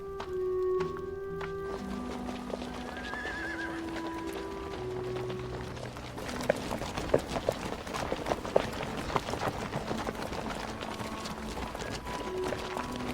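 Horses and people moving out on foot along a road, a scattering of hoofbeats and footsteps in irregular rhythm at mid distance, with a sustained musical tone running underneath throughout.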